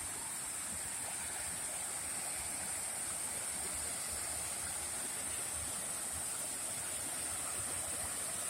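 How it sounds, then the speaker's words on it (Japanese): The Shimono waterfall in Iwate Prefecture pours in a steady, unbroken rush of falling water, an even hiss that stays constant throughout with no voices. "岩手県にある下野滝にやってきました。"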